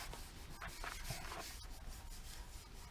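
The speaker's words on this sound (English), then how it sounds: "Rub it over. Make sure this is sticking very well so it doesn't do the same thing again as it starts to peel away." Adhesive covering is rubbed down by hand onto a panel of a 1967 Gitchner military tool trailer, a faint, continuous scuffing and rubbing sound with quick strokes and no talk.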